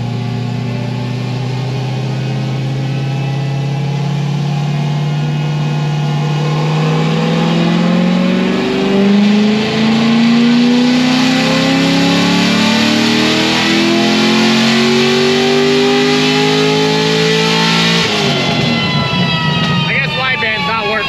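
A car with an LS7 engine revs on a cold pull, the tone climbing steadily for about eighteen seconds before dropping sharply, loud and close throughout.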